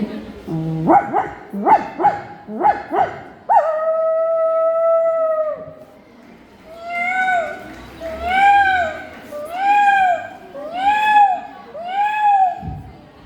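A human voice imitates a dog: a few quick barks, a long held note, then a series of rising and falling howls.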